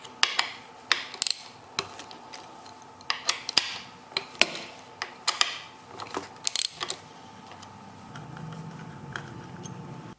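Small wrench or ratchet loosening the bolts on a Triumph motorcycle headlight assembly: a run of sharp, close metallic clicks and ticks at an irregular pace, with no talk.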